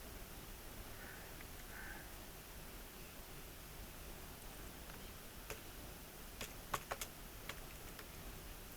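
Faint computer keyboard keystrokes while entering a narration in Tally Prime accounting software, a few scattered clicks clustering near the end over a low steady hiss, with no talking.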